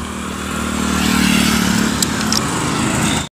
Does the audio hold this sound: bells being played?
no